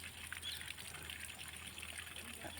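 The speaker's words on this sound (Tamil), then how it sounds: "தண்ணி ஓடுது" River water running steadily in an outdoor stream, a continuous close trickling and babbling wash with no break, heard alone without talk.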